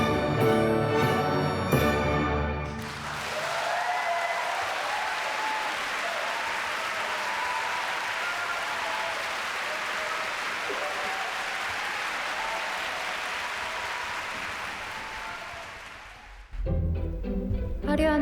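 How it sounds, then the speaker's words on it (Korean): Sustained, dense applause from a theatre audience after the Busan Opera House ballet company's performance of the Waltz of the Flowers from The Nutcracker, rising as the music ends and filling the hall steadily for over ten seconds before orchestral music returns. "관객들의 박수"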